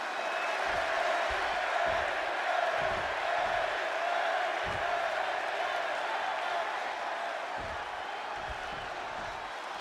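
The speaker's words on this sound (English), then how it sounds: "just listen to this crowd here in Chicago" A virtual wrestling arena crowd in Chicago roars steadily in a video game match between CM Punk and Eddie Guerrero, a continuous wash of cheering with scattered low thumps underneath.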